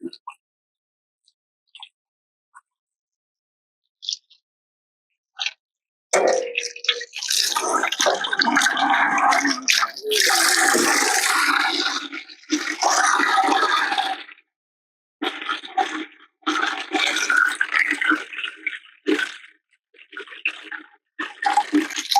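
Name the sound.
water draining from RV hot water tank into bucket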